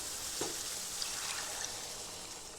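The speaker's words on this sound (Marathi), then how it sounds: "आता मी पाणी टाकते" Water is poured into frying onion-tomato masala in a pan for an egg curry, a bright hissing rush of sizzle and splash that stays steady and close throughout, with no voices.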